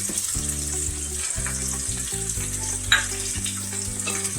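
Okra with coriander powder sizzling steadily in an open pan, a continuous close frying hiss with a faint utensil tap partway through as it is stirred.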